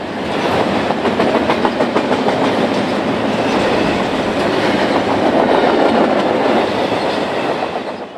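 A BNSF Z freight train departs westbound at night, a loud, dense rumble of rolling wheels and rhythmic clickety-clack that stays close and continuous before easing slightly at the end.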